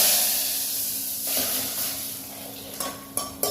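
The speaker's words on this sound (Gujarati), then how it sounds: "આપણે દાળ વઘાર નાખીએ" Hot tempering of asafoetida, mustard seeds, cumin, cinnamon, cloves and star anise is poured into boiling dal, bursting into a loud hiss that fades gradually, followed by a few sharp clinks of a pan and spoon.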